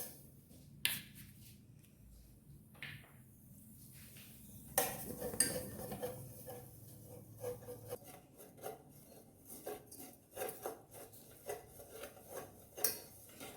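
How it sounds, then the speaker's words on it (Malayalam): A tablespoon of sugar caramelizes in a pan over a low flame, with intermittent scraping, rubbing and light metallic clinks of a utensil against the pan, quiet and close, with no speech. "ഇതിലേക്ക് 1 ടേബിൾ സ്പൂൺ പഞ്ചസാര ഇട്ട് നമുക്കൊന്ന് കാരമലൈസ് ചെയ്യാം."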